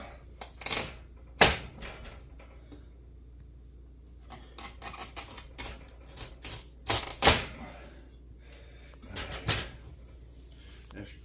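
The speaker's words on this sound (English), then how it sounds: "have your spaghetti squash there and just simply slice it right in half" A knife cuts a spaghetti squash in half on a board, producing scattered sharp cracks and crunchy scraping strokes at irregular intervals against a quiet background, with some low talk.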